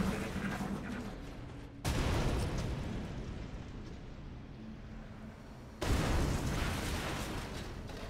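Explosions in the XCOM Enemy Within video game: two heavy booming blasts a few seconds apart, each followed by a long rumbling decay, loud and dense with no talking.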